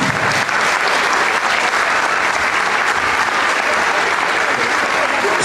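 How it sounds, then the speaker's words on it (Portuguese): Loud, continuous applause from a large audience at a school graduation event, a thick unbroken wash of many hands clapping close by with some voices buried in it. "Eu acho que eles merecem mais palmas,"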